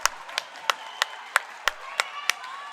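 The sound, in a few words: ice hockey crowd applauding a player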